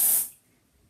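Dry shampoo from an aerosol can hisses in one short, loud, close burst aimed at the hair roots, then fades quickly to near silence.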